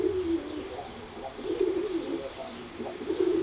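Oriental Roller pigeons in a loft giving soft, repeated low cooing calls close by, with a few faint chirps over a quiet background and no talking.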